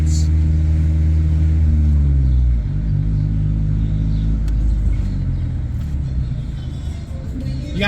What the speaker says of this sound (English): You can hear you got the dirt bikes on my left.